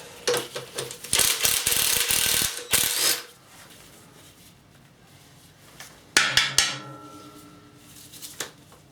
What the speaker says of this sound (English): what you need to do now is take the EGR valve off altogether